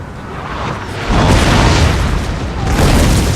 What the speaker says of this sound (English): Then, 4 good artillery shots.